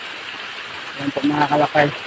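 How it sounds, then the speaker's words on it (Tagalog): Small waterfalls flow with a steady, even rush of water that runs throughout, while someone talks over it in the second half. "maliit lang po, maliliit lang po ito na waterfalls"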